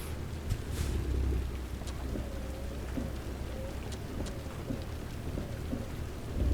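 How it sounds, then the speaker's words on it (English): Steady rain falls with low rumbling in the background in the video game American Truck Simulator, a continuous soft wash of noise without any voices. "And of course it's raining."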